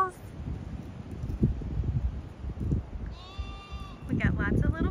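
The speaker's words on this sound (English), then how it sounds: "Here are the sheepies, and look at our little babies." Wind buffets the microphone while a person talks softly; a few bleats from sheep and lambs rise near the end.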